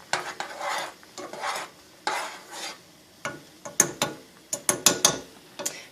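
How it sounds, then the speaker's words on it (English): Oatmeal ingredients being stirred together in a bowl with a spoon, a series of scraping, clinking strokes that quicken and sharpen toward the end, close and fairly quiet with no talking. "I'm stirring up all the ingredients in here so that way they all kind of"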